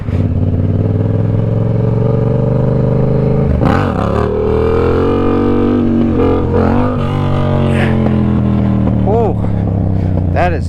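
A car doing a handbrake turn in a parking lot: a loud, close engine drone that holds steady, with revs swelling and dipping in pitch as the car swings around.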